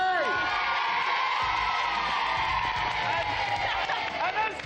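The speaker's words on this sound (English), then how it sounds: "Give her a big round of applause, Candy!" A studio audience of children and adults at a 1995 kids' game show cheers and whoops loudly, with overlapping excited shouts and voices forming a dense, sustained crowd roar.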